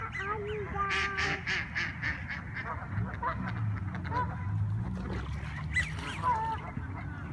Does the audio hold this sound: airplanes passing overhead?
no